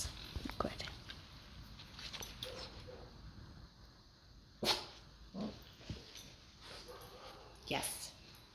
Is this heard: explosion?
no